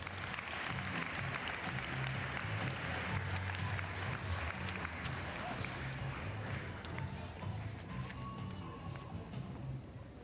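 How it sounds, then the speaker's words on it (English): Sustained audience applause fills a spring sports awards ceremony, a dense, steady wash of many hands clapping for the full stretch with a low crowd rumble beneath and no speech over it. "Let's give one more big round of applause for them."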